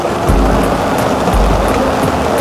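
Sea waves surge near flooded stairs in a squatter area, a loud continuous wash of water with low thumping swells roughly once a second, close by and with no voices.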